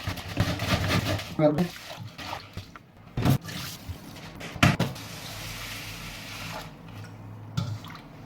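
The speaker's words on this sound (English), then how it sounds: "I'm going to put a little bit of water here. And I'm gonna rub again." Water poured into a pot of sushi rice and the grains rubbed by hand while rinsing: wet swishing and squishing with several sharp clinks and splashes, close up and moderately loud.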